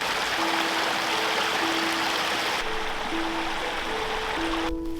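A mountain stream flows steadily, its broadband rush of water constant and fairly close throughout, with a faint tonal hum running underneath.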